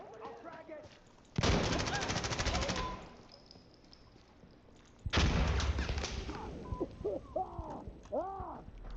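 Gunfire in the video game Insurgency Sandstorm comes in two loud bursts of rapid automatic fire with bird chirps and sparse sounds between them, and someone talks in places.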